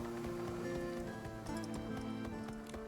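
Horse-drawn carriage in Infinity Nikki rolling through rain, with steady clip-clop of hooves over a continuous wash of rainfall and a low musical bed, all fairly even and close throughout.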